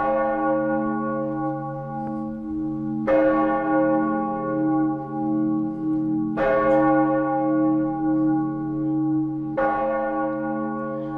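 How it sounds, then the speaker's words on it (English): Church bells in Amsterdam toll in four slow, evenly spaced strikes, each rich ringing tone swelling and lingering into the next, loud and clear with no voices. "Church bells have been telling the time for many centuries in countries all across the world, like here in my beautiful hometown, Amsterdam."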